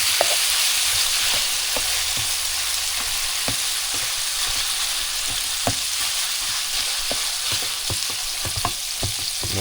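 Ground beef browning in a pan crackles with a constant, loud sizzle close up, punctuated by frequent small pops and spatula scrapes, with no one speaking.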